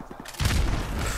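A grenade blast in Call of Duty Modern Warfare Remastered during a Headquarters match: a sudden loud boom hits partway in and rolls into a sustained rumbling, crackling roar, following quieter game noise.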